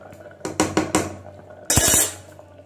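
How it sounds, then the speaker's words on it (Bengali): A few scraping clinks of a spoon stirring dalma, a traditional vegetable curry, in a cooking pot, followed by a louder, longer burst of metal scraping, heard close up with no talking. "একটু নাড়িয়ে নিচ্ছি"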